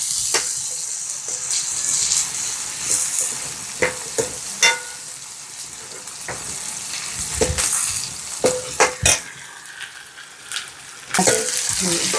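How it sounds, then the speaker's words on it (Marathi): Chopped onion frying in oil in a pan over a wood-fired stove while palak varan is being made, a steady loud sizzle with scattered clinks and scrapes of stirring. "तर आता टाकायचा कांदा, कांदा व्यवस्थित तेलामध्ये होऊ द्यायचा।"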